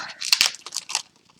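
Scissors snip open the ribbon packaging of craft supplies, a quick cluster of sharp, close cuts mixed with crinkling plastic, lasting just over a second.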